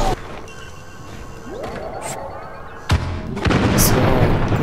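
Turret cannon fire in the Star Wars Battlefront video game: loud booming blasts and bursts over a continuous battle din, with a rising sweep midway and dense, heavier firing toward the end.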